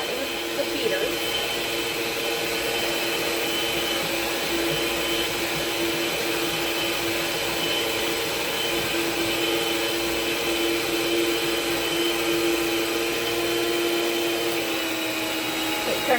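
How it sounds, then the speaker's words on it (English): Electric stand mixer beating banana bread batter, a steady whirring motor drone with a constant tonal hum, running continuously and close without a break. "slowly raise up the mixer, and off."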